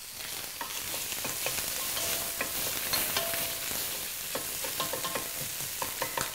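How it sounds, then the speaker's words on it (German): Cabbage rolls fry golden brown in a pan, a steady close sizzle with scattered pops and light scraping of a utensil running throughout, no voices. "Die dürfen ruhig goldbraun gebraten sein, weil das ist das, was an der Kohlroulade den geilen Geschmack gibt."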